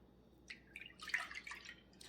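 Almond milk thinned with a little water is poured into a mixing bowl for cornbread pancake batter, giving a soft, brief splashing trickle that builds and fades over about two seconds, quiet and close with no talking.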